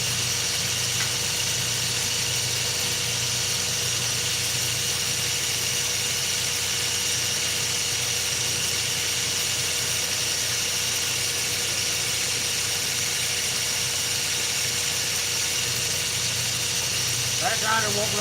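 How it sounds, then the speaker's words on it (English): A knife-making belt grinder runs steadily at full speed, a loud continuous droning hum with a constant whine that holds unchanged throughout, with a faint clatter near the end. "That grinder won't run this fast on wide open."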